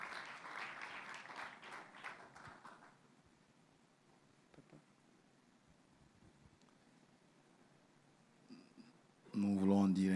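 A congregation applauds to acclaim the Lord at a Christian gospel gathering, a dense burst of clapping that fades into quiet murmuring and small sounds before a loud voice or music cuts in at the end.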